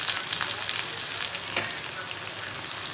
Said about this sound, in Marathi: त्यात टाकूया आपण वड्या.